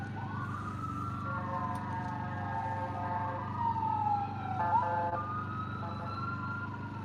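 A wailing siren rises and falls steadily over a low engine rumble, fairly loud and continuous, with no voices.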